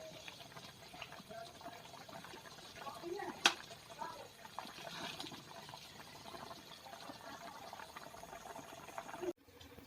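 Pot of chicken adobo with eggs simmering on the stove, a steady low bubbling and boil running throughout at moderate level, with one sharp clink partway through and faint voices in the background.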